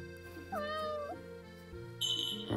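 A cat in the video game Stray Cat Doors 3 gives a clear, drawn-out meow over steady game music, followed by a brighter electronic chime.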